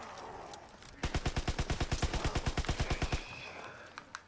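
Submachine gun (MP) fire in Call of Duty WWII's zombie mode: one sustained automatic burst of about twenty evenly spaced, loud close shots lasting roughly two seconds, followed by a couple of faint clicks.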